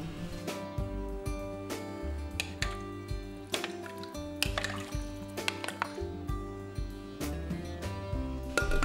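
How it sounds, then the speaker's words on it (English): Tamarind sauce poured into a pot of Vietnamese eggplant soup, a soft liquid trickle with small drips and splashes amid light kitchen clatter. "For the acidity, I'm gonna add in 2 tablespoons tamarind sauce"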